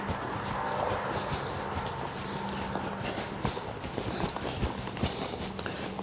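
A broke horse walks steadily under its rider, hooves clip-clopping in an even, close rhythm over constant ambient noise.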